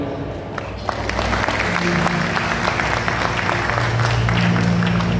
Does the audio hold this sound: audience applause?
yes